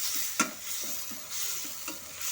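Spices and salt fry in oil for katla rezala, a steady hiss of sizzling with a couple of soft spoon knocks against the pan, close and quiet, without speech.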